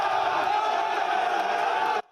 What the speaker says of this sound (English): Dozens of men cheer as a cement barricade leading to the palace gates in Iraq's capital city falls